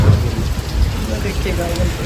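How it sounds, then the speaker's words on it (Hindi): Heavy monsoon-style rain pours down steadily and loudly, a dense hiss of drops striking surfaces with a low rumble underneath, continuous for the whole stretch with no voices. "और बारिश बहुत धूमधाम से आ रही है।"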